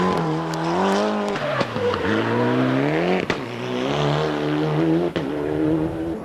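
A 1997 World Rally Championship car, a Mitsubishi Lancer Evo 4 or similar rally machine, corners a first-gear hairpin, engine note dropping and climbing through revs with tyre squeal and sharp pops, loud and close throughout.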